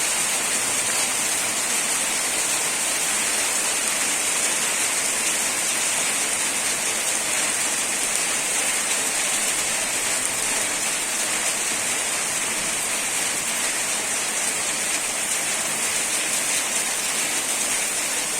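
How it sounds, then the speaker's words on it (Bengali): Heavy rain pours in a dense, steady roar heard from indoors, loud and unbroken throughout, with no voices. "দারুণ বৃষ্টি হচ্ছে বাবা"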